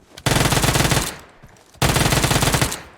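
Rapid full-auto Uzi fire in a shooting video game, two close, loud sustained bursts of roughly a second each separated by a short pause.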